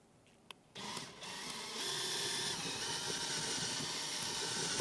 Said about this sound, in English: I'm going to drill out the rivets holding these guys on from the inside out